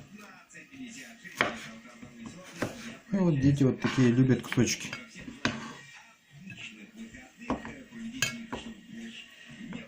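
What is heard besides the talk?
knife cutting fish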